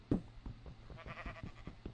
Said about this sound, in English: And I hear a sheep too.